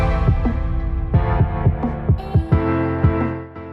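Semi-automatic cup-shape mask making machine with a big roller turning in a circle, running loudly with a steady hum and regular heavy thumps repeating about every half second.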